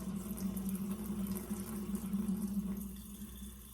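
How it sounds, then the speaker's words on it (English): Tap water runs steadily from a sink faucet, a continuous close hiss and splash that holds for a few seconds before thinning slightly at the end, with no voices over it. "You'll turn your water on."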